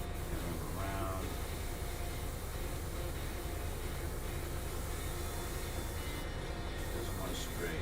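An airbrush sprays paint onto a model of an F-22 Raptor fighter jet, giving a steady, close, unbroken hiss that runs the whole time.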